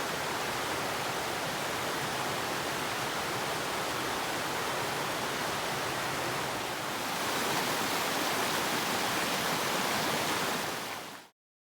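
May Creek in the North Cascades rushes along in a steady, broadband wash of flowing water, constant and close, swelling slightly near the end before cutting off.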